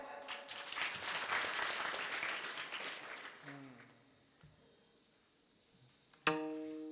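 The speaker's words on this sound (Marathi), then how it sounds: "टाळी वाजवायची असेल तर मोकळी वाजवा" Audience clapping at a devotional kirtan, a dense burst of applause that swells and then fades away over a few seconds, followed by talking.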